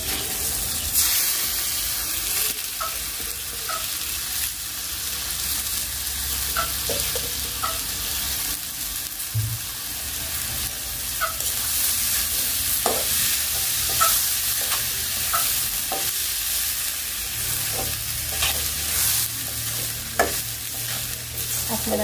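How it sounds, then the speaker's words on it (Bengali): Washed rice fried and stirred in a wok over onions already browned, with a steady sizzle and repeated scraping strokes of a spatula running throughout, close and fairly loud, no voices. "তো আমি মনে করি যে কড়াইতেই কিন্তু চালটা ভাজা ভালো হয়।"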